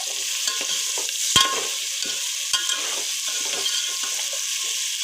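Ground masala paste stirred and fried in oil in a pan for egg biryani, a constant close sizzle broken by a few sharp clicks and scrapes of a spoon against the pan.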